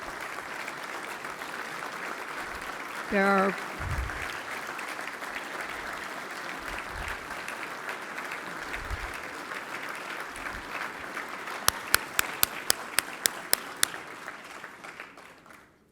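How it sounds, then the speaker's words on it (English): An awards dinner crowd gives long, even applause, with a brief spoken phrase early on and a few sharp clicks near the end as the clapping fades. "stand up and give them a round of applause"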